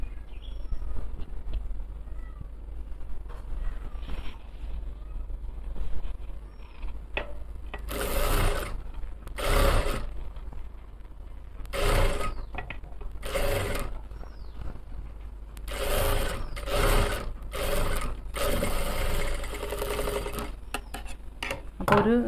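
A sewing machine stitches the side seam of a churidar-cut nighty in repeated short bursts, louder runs clustering in the second half, with a steady low hum underneath and no talking.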